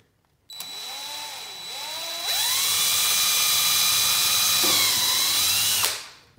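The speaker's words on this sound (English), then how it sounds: "Now I'm going to put another hole here." Power drill boring a hole through a broken wooden chair during a repair, a steady high whine that starts, pauses briefly, then runs louder and sustained for several seconds before cutting off.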